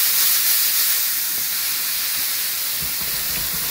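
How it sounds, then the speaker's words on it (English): Beef sears in a pan for goulash, giving a steady, bright sizzling hiss that stays even and close throughout, with faint clatter underneath. "So we're just searing in the meat."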